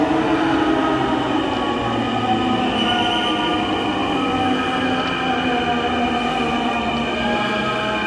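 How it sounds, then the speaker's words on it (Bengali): A Dhaka metro rail train bound for Motijheel pulls into an elevated station, a loud, sustained electric hum and rolling rumble with faint wheel squeal, heard close with no talking. "দেখতে পাচ্ছেন একটা ট্রেন কিন্তু এখানে আসলো, এটা যাচ্ছে মতিঝিলের দিকে"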